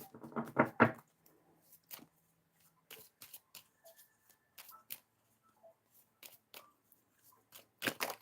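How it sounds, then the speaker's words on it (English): Tarot cards are shuffled close up in quiet bursts, with a quick riffle at the start and another at the end, separated by soft scattered taps and card rustles with near silence in between. "Shuffle these cards here."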